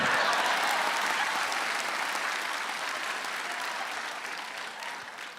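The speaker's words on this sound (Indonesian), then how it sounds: "Tepuk tangan buat Irfan Kartawirya" Steady, loud applause from a stand-up comedy audience, sustained throughout and tapering slightly toward the end, with no voices above it.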